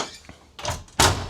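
A storage drawer in an off-grid Euphoria XL RV by Nomad RVs sliding shut, with two soft shuffling bumps followed by a louder, sharp closing thunk at the end.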